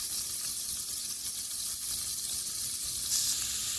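Half a stick of butter sizzles in a pan for a sauce base, giving a steady, close, crackling hiss that runs unbroken throughout with no voices.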